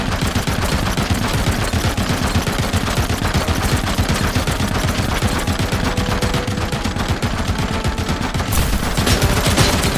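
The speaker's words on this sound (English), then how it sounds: "Are you shooting at me?" Sustained automatic gunfire from the film RoboCop, dense loud bursts hammering continuously for the whole stretch with barely a gap.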